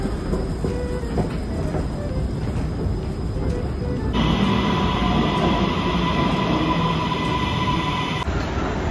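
Steady metro train rumble and rail noise just after getting off the subway, a continuous loud roar through the whole stretch, swelling with a bright whining hum partway as the train moves along the track.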